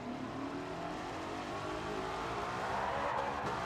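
A 1955 Mercedes F1 car in a racing video game accelerates out of a hairpin, a steady dense engine roar with tyre noise that holds constant throughout, no speech.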